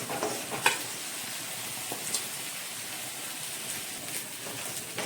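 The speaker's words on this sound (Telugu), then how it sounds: "ఇప్పుడు ఇంకా మంచిగా మిక్స్ చేసుకోవాలి." Capsicum rice being stirred in a frying pan, giving a soft continuous sizzle with a few light scraping stir strokes at irregular intervals, fairly quiet and with no voices.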